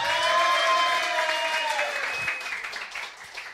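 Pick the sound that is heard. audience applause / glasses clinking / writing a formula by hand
audience applause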